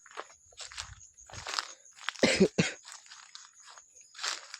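Scattered dry coughs and throat-clearing sounds come close by, with a stronger burst of coughing in the middle amid crunchy rustling noises.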